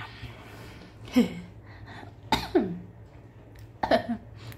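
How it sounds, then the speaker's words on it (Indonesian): Three separate coughs spaced a second or so apart, close and fairly loud, with quiet pauses between them. "Maaf ya, batuk ya kan"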